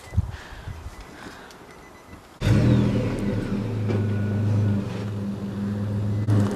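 Small ride-on car engine starting up suddenly and running with a steady mid-level hum and drone, fairly close, held for several seconds while backing up outdoors.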